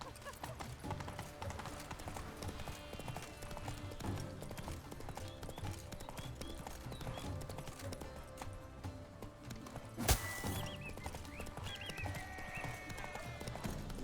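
Roach, a horse in The Witcher 3, gallops with rapid rhythmic hoofbeats over a busy game soundscape, with a sharp burst and a whinny-like cry around the middle, continuous and fairly close.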